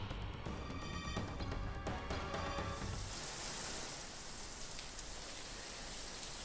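Heavy monsoon rain pours down in Sindhudurg, Maharashtra, a dense, even rush of falling water heard faintly and continuously, with a brief tonal sound over it at the start.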